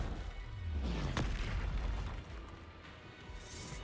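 A fire spell cast in the Hogwarts Legacy game lets out a sudden whooshing burst with a falling roar that fades into crackling rumble, loud and close, with no talking.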